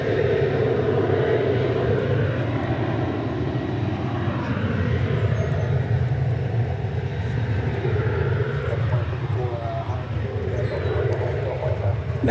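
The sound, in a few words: Boeing 737-800 airliner at DFW Airport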